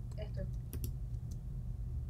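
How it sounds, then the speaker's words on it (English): Mouse clicks while editing in iMovie on a computer, a few sharp quiet clicks in the first second over a steady low hum, with faint talk and background noise. "So I'm clicking and playing."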